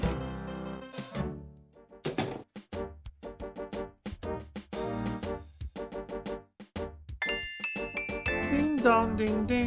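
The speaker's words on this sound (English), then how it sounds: "Ding dong ding ding. You're gonna hear a lot of that during this playthrough." A ding-dong chime from the adventure game Gabriel Knight rings out among busy, layered game music and effects, its bright tones standing out clearly near the end.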